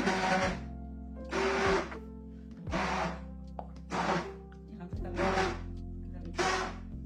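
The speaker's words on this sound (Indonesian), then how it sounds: "sekarang kita lakukan proses pengadukan ya teman-teman, supaya terjadi reaksi saponifikasi menggunakan hand blender dengan metode on off" A hand blender stirring liquid eco-enzyme soap made with ten oils runs in short on-off bursts, about five pulses, each a loud whirring surge separated by quieter pauses of manual stirring.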